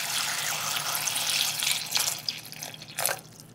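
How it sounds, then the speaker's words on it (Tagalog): Running tap water splashes steadily over fresh chili peppers being rinsed in a kitchen sink, with a few brighter splashes and drips near the end. "Tapos, hugasan natin."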